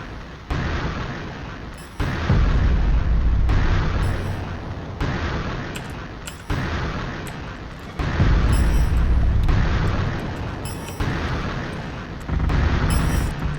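Artillery in the Artificial Extinction video game launching and exploding, a series of heavy booming blasts roughly every one to two seconds, each a loud deep thump with a rumbling tail.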